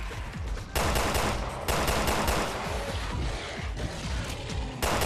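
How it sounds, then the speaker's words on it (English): Rapid handgun fire in the video game Resident Evil Revelations 2, dense bursts of loud shots in quick succession with brief pauses between volleys. "this handgun's got crazy fire rate on it"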